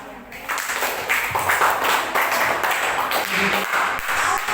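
Students in a social studies classroom applauding after a group presentation, a steady patter of clapping hands that starts after a brief quiet moment and continues evenly, with faint voices underneath.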